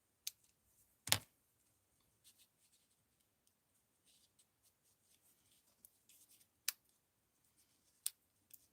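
Scissors snip through a small craft embellishment, giving one sharp close cut followed by a few fainter snips and light handling noises in a quiet room.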